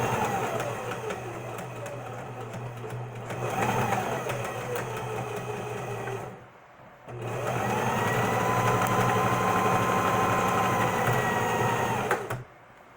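A sewing machine stitches a shirt placket in steady, whirring runs, briefly pausing before starting again and running close and continuously without talk.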